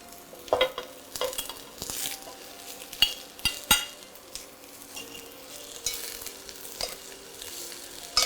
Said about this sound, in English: Make sure that the onion is browning up nicely.